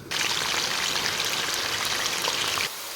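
Cut potatoes fry in hot oil: a dense, steady sizzling hiss, close and loud, that cuts off abruptly near the end, with no talking.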